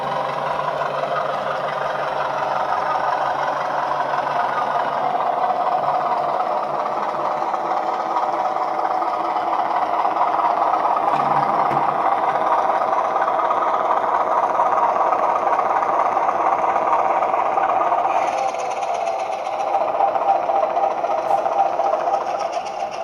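A Bachmann Kernow Class 205 Thumper model train's sound unit plays a steady, loud diesel engine drone with a throbbing, rumbling texture, continuous and unbroken for over twenty seconds with slight shifts in tone near the end.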